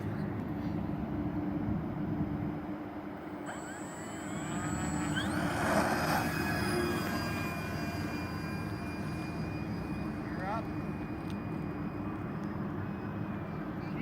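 An E-flite T-28B Trojan 1.2m RC plane takes off on its maiden flight, its electric motor whining up in a rising pitch over a steady outdoor background, swelling in the middle then holding a distant drone.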